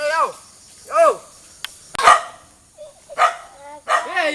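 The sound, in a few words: dog barking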